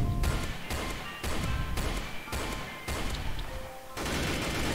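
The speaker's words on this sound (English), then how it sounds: "Shoot him, shoot him." Gunfire in the Roblox game Mad City, a series of heavy thumping shots in a regular rhythm of about five rounds, loud and close over game background noise.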